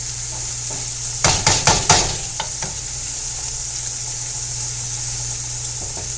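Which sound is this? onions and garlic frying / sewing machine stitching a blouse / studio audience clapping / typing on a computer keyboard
onions and garlic frying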